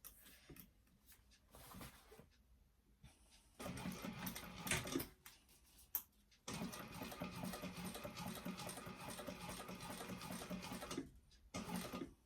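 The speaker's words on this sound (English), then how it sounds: "And take it nice and slow. You want to get a nice stitch and a nice curve around that corner there." A sewing machine stitches a bag slowly around a curved corner, running in short bursts with brief pauses before a longer continuous run, close and clear.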